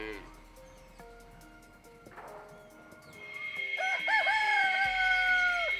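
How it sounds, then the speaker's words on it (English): A rooster crows in a long, rising call toward the end, in El Rodeo, with faint background animal noises and tones before it. "My least favorite part has been the roosters."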